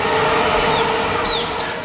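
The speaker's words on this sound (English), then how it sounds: "Morning sounds here are birds and train crossings and trains." A train rolls past in a Japanese neighborhood in the morning, a loud continuous rumble with metallic wheel squeals near the end, close by and with no talking.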